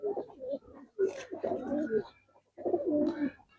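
Giribaz coloring pigeons, a pair in a nest box, give soft, low throaty coos in three bursts, fairly close, with voices faintly mixed in.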